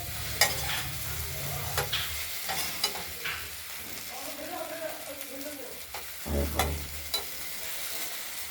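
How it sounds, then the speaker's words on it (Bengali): Onion-stalk fritters frying in hot oil in a wok while being turned, with intermittent scraping stir strokes over a low sizzle; a few louder clatters stand out near the start and end. "বড়া আবার নেড়ে দিলাম"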